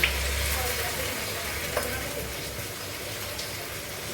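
Polao rice fries with browned onions in oil in a pan, giving a steady, even sizzle with a few faint stirring scrapes, close and moderately quiet.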